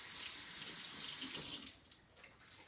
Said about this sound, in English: So, I'm going to rinse this onion.